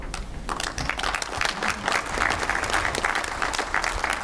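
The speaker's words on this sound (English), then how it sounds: "We want to applaud you" A workshop audience in Shillong, Meghalaya, breaks into sustained, steady applause for a team of rural women, many hands clapping together close by with no voices over it.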